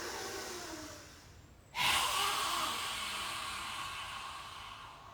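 A strong inhale through the nose during a qigong breathing exercise, starting abruptly as a loud airy rush and tapering slowly, close to the microphone with no talking.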